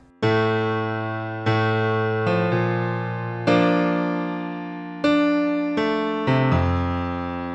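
Low left-hand piano chords from a song struck one after another at a steady, unhurried pace, each ringing out and fading before the next, with no talking.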